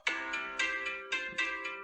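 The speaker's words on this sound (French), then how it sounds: "ça sonne c'est parce qu'il est 59. Sur mon téléphone, j'ai un réveil." A phone alarm rings on its own, repeating a bright electronic tone in short bursts at a soft, steady level.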